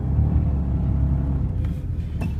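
A 1995 Ford F-150 with a slipping transmission sits running in gear, its engine giving a steady low rumble close by, with a faint change in tone near the end.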